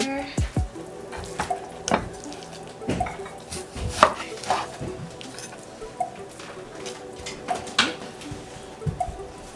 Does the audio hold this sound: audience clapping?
no